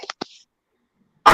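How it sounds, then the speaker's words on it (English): Several quick, sharp coughs burst out close together at close range, followed by a short silence and then another harsh burst at the very end. "We coughing."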